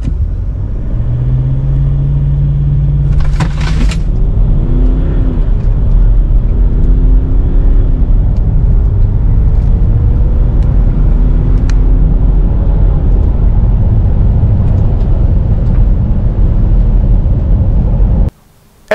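A 2005 Range Rover Sport TDV8 diesel V8 launched from a brake-and-throttle standstill at full throttle, a loud sustained engine roar climbing through gear changes amid heavy road and wind rumble, without speech.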